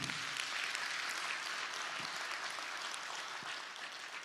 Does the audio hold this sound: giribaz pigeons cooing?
no